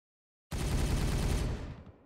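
A unit's weapon fires in Warhammer 40,000: Regicide, one abrupt loud burst of rapid gunfire after a moment of silence, holding for about a second before decaying away, with no voices.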